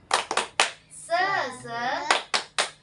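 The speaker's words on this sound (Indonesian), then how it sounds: "Tepuk semangat." Children in a classroom clap a rhythmic 'tepuk semangat' cheer: quick bursts of claps open and close, and a sung, chanted group voice fills the middle.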